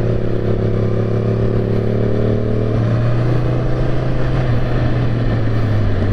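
A Honda CBR650R rides along curving, twisty European roads, its engine and exhaust droning steadily with a low hum that shifts pitch midway, close and continuous with no talk.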